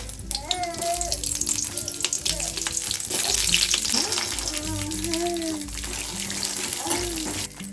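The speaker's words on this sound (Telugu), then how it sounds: "1 స్పూన్ ఆయిల్ వేసుకొని పచ్చిమిర్చి వేసుకుందాం" Green chillies are dropped into a spoonful of hot oil for peanut chutney, with a loud crackling, bubbling sizzle throughout and a voice talking over it.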